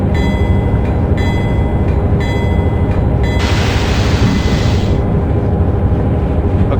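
Train in a train simulator game on the Harrisburg to Pittsburgh line, its low rumble of wheels and engine running steadily and loudly for the whole stretch, with a brief hiss of air noise partway through.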